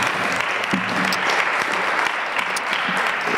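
Sustained audience applause at a round-table event on social insertion, steady and dense throughout, with no voices over it.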